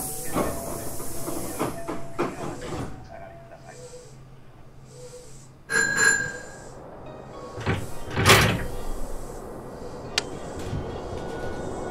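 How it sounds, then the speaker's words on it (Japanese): Doors of a Hankyu 8000 series train closing in the BVE train simulator, with an announcement chime, then a sharp pneumatic hiss and a thud partway through, followed by a louder burst of air near the end. "扉が閉まります。"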